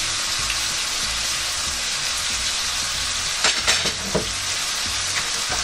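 Pancit bihon rice noodles with oyster sauce are stirred in a frying pan, a steady loud sizzle running throughout, with a few sharp scraping clinks of the utensil against the pan near the end.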